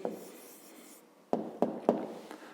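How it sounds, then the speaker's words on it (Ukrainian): A pen or pencil writes an answer by hand on paper during a maths exercise, a soft scratching stroke followed by three short, distinct taps and strokes, close and quiet. "Записуємо відповідь."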